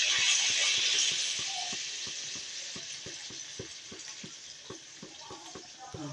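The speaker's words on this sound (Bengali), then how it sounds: "কষিয়ে নিই, তারপর জলটা দিয়ে দিলাম, একদম ফুটন্ত গরম জল।" Boiling hot water is poured into rice sautéing in a pan, giving a loud hissing rush at first that fades, then a steady run of rhythmic scraping stir strokes over a soft bubbling sizzle.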